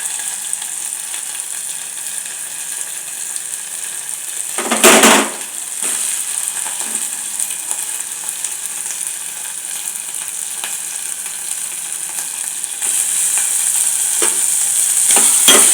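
Onions frying in a pan for potato, pea and chicken kurma give a continuous bright sizzle with a brief louder stir or clatter near the middle, and the sizzle swells toward the end.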